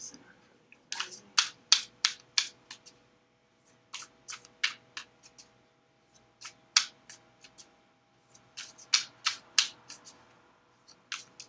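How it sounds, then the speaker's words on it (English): Tarot cards are shuffled by hand in quick, crisp bursts of riffling and slapping, irregular clusters of sharp close-up clicks separated by short pauses in a quiet room. "these decks were pre-shuffled as well before I started filming"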